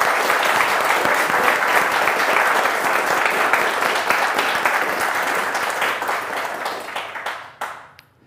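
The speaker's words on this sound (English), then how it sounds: "So let's all give a round of applause to Jay." Conference audience applauds steadily for several seconds, a dense wash of clapping that thins out and fades to a few last claps near the end.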